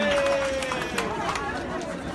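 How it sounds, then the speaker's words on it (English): A large crowd at a political rally about women's rights reacting to a sign, a diffuse chatter and murmur of many voices, fairly close, underneath a clear speaking voice. "So the crowd is responding to this sign."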